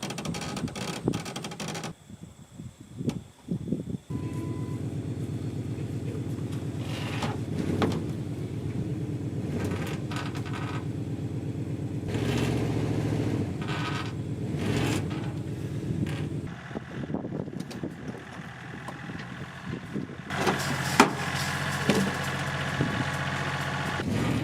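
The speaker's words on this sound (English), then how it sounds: "Back wheels are just spinning." A vehicle engine revs hard while its back wheels spin, dragging an insulated shed across farm ground, a loud sustained drone rising and falling near the microphone with wind buffeting and no talking.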